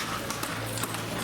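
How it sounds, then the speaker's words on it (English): Hooves of a horse-drawn carriage clip-clop on a street in a bustling Cuban town centre, a few quick, even hoofbeats over steady background noise and a low hum. "with horse-drawn vehicles"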